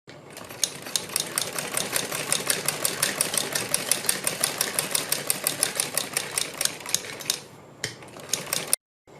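A sewing machine runs a seam along a neck facing strip in rapid, even rhythmic ticking for about eight seconds, stops briefly, gives one last short burst and then falls silent, close and loud.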